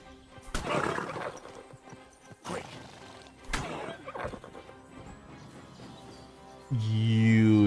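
A horse in Kingdom Come: Deliverance II neighs and whinnies, loud and close, mixed with clip-clopping hooves and sharp crashing impacts; a voice speaks briefly near the end.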